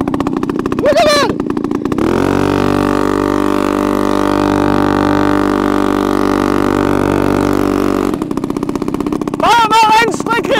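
Homemade board tracker moped with a small engine running steadily and loudly for several seconds near the listener, with people shouting excitedly before and after the engine noise.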